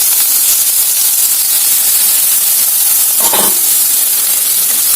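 Chopped onions dropped into hot oil in a pan, giving a loud, steady hiss and sizzle with a brief stirring clatter partway through, and no talking.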